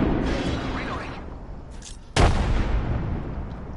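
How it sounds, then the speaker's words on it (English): A frag grenade detonates in Apex Legends with a sudden sharp blast and rumbling tail, following moments of mixed gunfire and game sounds. "Frag out. Watch out, my grenade's down there."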